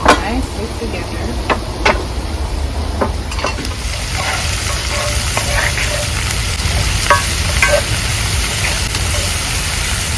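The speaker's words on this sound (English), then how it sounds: "So I'm going to let these saute a little for maybe another 2 minutes or so." Tomatoes and fresh thyme sauté in a hot pan with a steady close sizzle, punctuated by occasional clicks of stirring.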